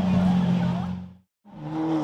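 A Porsche Carrera GT engine revs loudly with a low rumbling exhaust, cuts to a brief silence, then roars back in.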